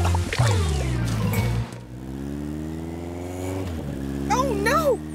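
Cartoon motorcycle with an engine full of mud revving up, a sputtering engine drone that drops briefly, resumes steady, then rises again with squealing tones near the end; a voice speaks over the start.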